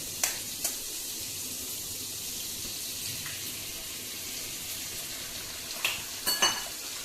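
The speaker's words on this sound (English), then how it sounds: "Then we just crack the egg." An egg fries in a pan with a steady soft sizzle, punctuated by a few sharp clicks and taps near the start and end, close by with no talking.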